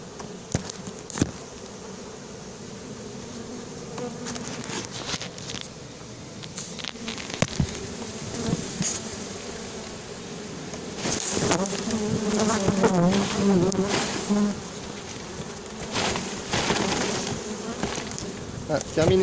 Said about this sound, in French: Toutes les abeilles sont posées dessus là.